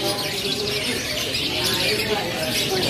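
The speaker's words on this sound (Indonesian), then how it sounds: "Dan ini merupakan jalak suren anakan." Young Asian pied starling chicks calling in a bird shop, a dense, continuous chorus of chirps and tweets mixed with other caged birds and a faint voice underneath.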